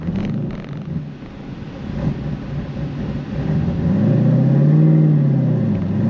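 A tuned car with a deeper exhaust note and compression upgrade rumbles at idle and then swells into a low droning rev, heard close with some wind buffeting over the microphone.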